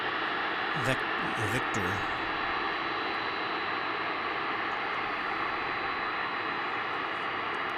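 Steady broadband roar of a small DHL cargo plane at DFW International Airport, fairly distant and continuous, with a voice talking over it in the first couple of seconds.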